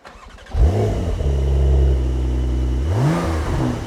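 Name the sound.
Brabus 720 Porsche 911 Turbo S engine starting up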